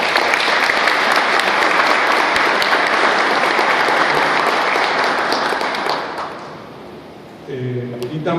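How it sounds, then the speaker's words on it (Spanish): A crowd applauds loudly and steadily for several seconds, then the clapping fades out and a voice begins speaking. "Alida Jesús Uzcategui Duque, para el cual pido un fuerte aplauso."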